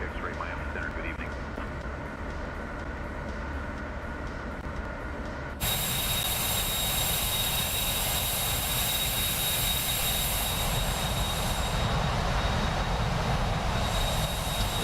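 HondaJet jet engines in Microsoft Flight Simulator 2024 produce a steady broadband roar with a thin high whine, climbing through altitude; the sound grows louder and brighter partway through and holds as a continuous drone.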